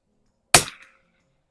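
A single sharp rifle shot from an H&R M12 military trainer rifle at an outdoor range, loud and close with a short decaying tail, alone with no talk.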